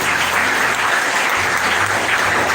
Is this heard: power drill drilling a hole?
no